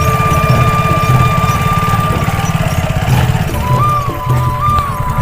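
A motorcycle ridden over a sandy track on a river island in Kamrup, Assam, its engine chugging in a steady, close drone with a thin whine wavering on top near the end.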